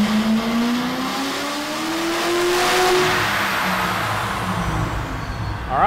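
A car engine roars loudly and steadily on a dynamometer, its pitch climbing smoothly as it accelerates under load from 3,000 to 5,000 rpm, then dropping off near the end.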